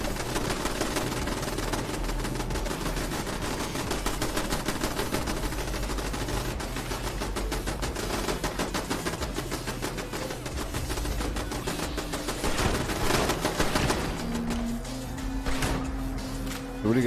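Gunfire in the post-apocalyptic game Fallout 76, rapid machine-gun bursts rattling over a low, steady engine-like drone for the whole stretch, loud and continuous with brief pauses between volleys.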